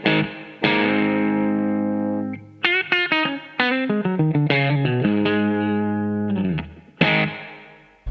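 A Telecaster electric guitar played through a Broadcast pedal with a touch of Big Sky spring reverb and no delay, with sustained chords and quick picked notes ringing out with a gritty edge and short reverb tails, no voices.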